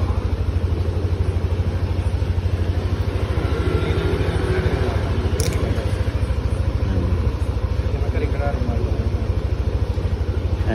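A Yamaha NMAX V3 scooter fitted with a GPS tracker and kill switch runs with a steady, close engine hum that holds throughout, with occasional small clicks and no one talking.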